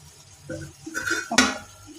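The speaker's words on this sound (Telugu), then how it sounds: "మనం మూత పెట్టుకొని" A lid set onto a cooking pot: a soft shuffle, then a short metallic clank as it lands, close and brief.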